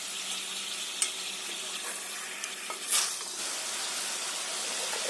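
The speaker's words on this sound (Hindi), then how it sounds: "फ्राई करेंगे इसको।" About a kilogram of chicken sizzling and frying in a pan, with a steady hiss, faint stirring and a few clinks and scrapes under it, no talking.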